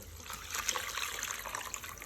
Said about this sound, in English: I'm going to add water to this